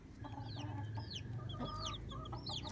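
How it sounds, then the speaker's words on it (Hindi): Several one-month-old Plymouth Rock chicks on a rooftop farm give faint, quick peeping chirps and soft clucks over a low background rumble. "ये चार प्लाई माउथ की जो है ना बेहतरीन क्वालिटी की चिक्स है मेरे पास"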